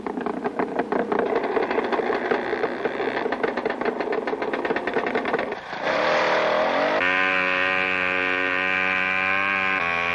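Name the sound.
1967 Polaris snowmobile engine racing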